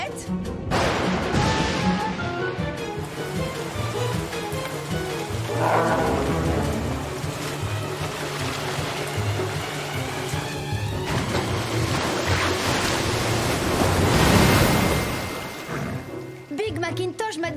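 Cartoon storm with dense rain hiss and rumbling thunder-like swells, building to a louder roar near the end, with busy music and effects layered throughout.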